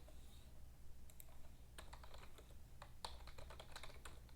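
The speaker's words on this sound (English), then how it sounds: "I'm typing all this out" Someone typing on a computer keyboard, a quick irregular run of soft clicks and key taps coming in bursts over a low steady hum, close by but quiet, with no voices.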